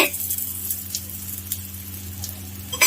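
Rice roti cooking in oil on a low flame gives off a soft, steady sizzle with faint crackles. It runs on without a break and ends in a brief louder clatter.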